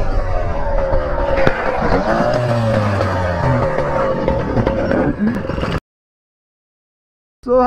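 A motorcycle skids along the road after its brake fails, a rough, loud scraping and engine roar lasting several seconds close by, then cutting to silence before a brief burst of sound returns.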